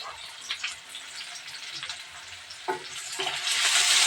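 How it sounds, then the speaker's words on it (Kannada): Onions and ginger frying in oil in a pan for a chicken dish, giving a steady close sizzle with stirring scrapes and a louder burst of crackle near the end; no talking. "ಇದೆಲ್ಲ ಚೆನ್ನಾಗಿ ಹುರಿಬೇಕು ನೋಡ್ರಿ ಈ ಥರ ಉಳ್ಳಾಗಡ್ಡಿ ಎಲ್ಲ ಚೆನ್ನಾಗಿ ಸ್ವಲ್ಪ ಎಣ್ಣೆಗ"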